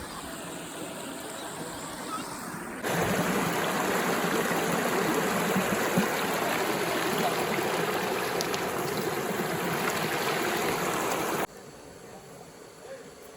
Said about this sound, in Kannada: ಇಲ್ಲಿ ನದಿ ಹರಿತಾ ಇದ್ರೆ ದೇವಸ್ಥಾನದ ಎದುರುಗಡೆ ನಾವೀಗ ನದಿ ದಾಟಿ ಹೋಗಬೇಕು